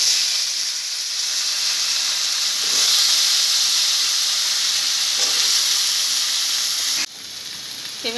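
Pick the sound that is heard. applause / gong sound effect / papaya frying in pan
papaya frying in pan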